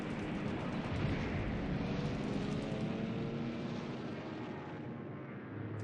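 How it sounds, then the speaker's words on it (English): Hurricane IIC fighters attacking Helen bombers in War in the Pacific, a steady broadband roar of aircraft engines and distant combat that fades gradually toward the end, with no voices. "These Hurricane 2Cs don't want to be outdone, so they start shooting down Helens."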